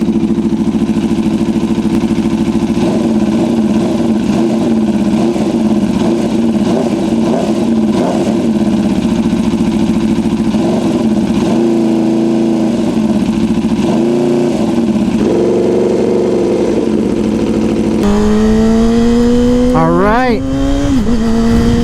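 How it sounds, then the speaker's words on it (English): A Yamaha R6 sport bike with a 160 rear wheel runs loud and close, its engine droning steadily with small revs and a rising whine near the end, and a voice talks over it. "I'm afraid to rev it, it's so freaking loud."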